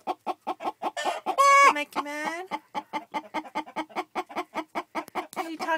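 An angry hen clucks from her nesting box in a home-built chicken coop, a close, steady run of sharp rhythmic clucks with a couple of drawn-out squawks, while a person speaks briefly over her.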